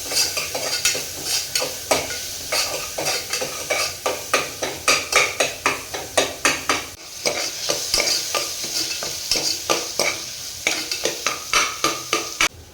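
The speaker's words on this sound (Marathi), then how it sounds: "टोमॅटो सुद्धा छान परतून घ्यायचा आहे" Tomatoes sauté in a pan for a soya chunks curry, with a quick, even run of spatula strokes scraping and tapping the pan over a soft sizzle, loud and close, with a brief pause midway.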